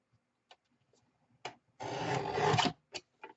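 A paper trimmer slicing through card during shirt-shaped card crafting: a short, close rasping cut lasting about a second, with a few light taps and clicks before and after it and no voices.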